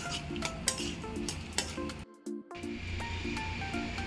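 Cumin, mustard seeds, split dals and dried red chillies fry in a little hot oil, a steady close sizzle broken by the scrape and clink of a spoon against the pan.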